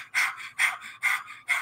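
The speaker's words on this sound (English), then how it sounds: "just stick the tongue out and pant." Rhythmic open-mouthed panting with the tongue out, done as a stand-in for breath of fire in Kundalini yoga: four quick, forceful breath bursts in an even pulse, close and clear.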